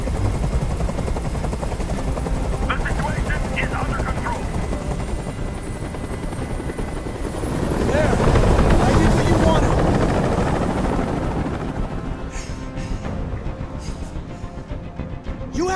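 Helicopter hovering overhead in the video game Detroit: Become Human, a loud continuous rotor drone that swells midway, with someone speaking over it.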